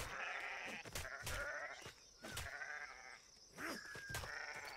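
A goat in the survival video game Atlas bleats several times in short, wavering cries between scuffles and impact sounds, quiet and up close.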